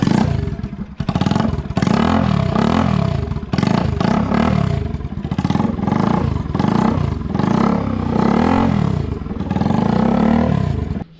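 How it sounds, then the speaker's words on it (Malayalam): A Bajaj NS200 motorcycle engine running with the exhaust removed, loud and close, revved hard again and again in a steady rhythm of rising and falling sweeps with a raw, rasping roar. "എന്നിട്ട് ജസ്റ്റ് നമുക്ക് വണ്ടിയുടെ സൗണ്ട് ഒന്ന് കേൾക്കാം"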